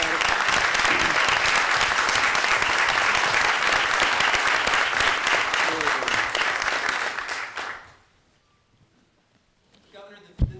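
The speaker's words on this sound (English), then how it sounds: "Let's give them a round of applause for a great battle." Sustained applause from those gathered at a New York State cabinet meeting, a steady loud wash of clapping that dies away after about eight seconds, leaving near silence.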